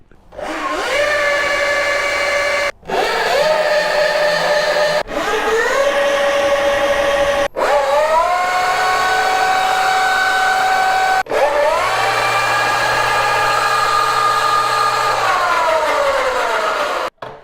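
Electric dirt bikes, E-Ride Pro S and Pro SS, whine up in pitch several times in a row, loud and close, each throttle burst rising, holding, then cutting off.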